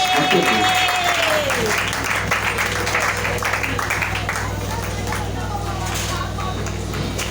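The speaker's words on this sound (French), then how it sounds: "nous sommes en train de recevoir le révérend Willy sous vos acclamations." A congregation at a church gathering applauds and cheers to welcome a reverend, with sustained crowd clapping under a sliding tone, a dense, loud wash that continues throughout.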